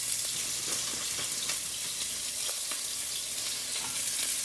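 Leeks frying in hot grease in a pan for a vegetarian breakfast, a loud continuous crackling sizzle with small pops and stirring scrapes, close by and with no talking.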